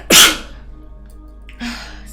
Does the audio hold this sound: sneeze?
yes